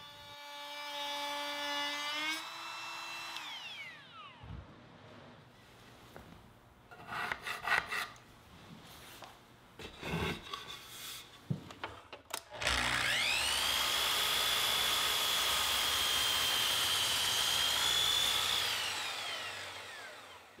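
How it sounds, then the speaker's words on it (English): A router cuts a slight chamfer along the wooden sides of a garden toolbox, spinning up with a rising whine. Scraping cuts and bumps follow, then a steady, loud, high-pitched cutting whine runs continuously before winding down. "I'll use the router to add a slight chamfer to the sides."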